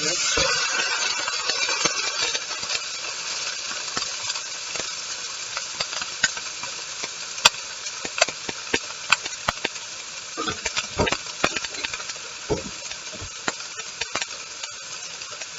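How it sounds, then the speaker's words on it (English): Patted-dry bacon sears in a hot pan with a bright, continuous sizzle and scattered sharp crackles and pops, up close and fairly loud. "Bacon. Patting it dry. We have to get a good sear."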